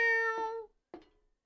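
A cat shut out by a closed door meows indoors: one long, loud, drawn-out cry, then a shorter, quieter call a moment later.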